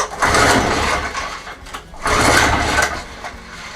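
A Rotax-engined Wolf lawn tractor being cranked, with two long mechanical whirring bursts of the starter turning the engine over without it catching, close and fairly loud, alone.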